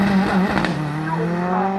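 A saloon race car at the Shelsley Walsh hillclimb during the Tin-Top Challenge sweeps past with a loud, close engine howl whose pitch drops as it goes by, then fades slightly as it heads up the hill.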